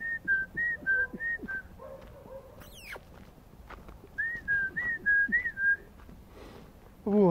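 Dogs come running up near a railway station on icy ground, giving repeated high whining whimpers in two bursts, with a short yelp between them. A soft patter of movement runs underneath.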